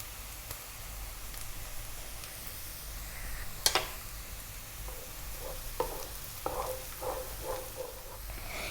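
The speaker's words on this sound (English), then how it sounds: "Now I'll put my garlic and we'll cook it for 2 minutes." Garlic frying in a pan with sausage for a tomato pasta, a faint, steady sizzle with occasional stirring scrapes and soft clinks from a utensil, heard close with no talking.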